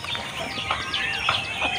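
Aseel rooster giving short clucks, several soft calls spaced across a brief moment over steady background noise, close by.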